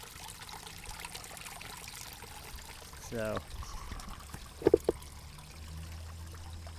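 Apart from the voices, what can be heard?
garden water feature trickling and pouring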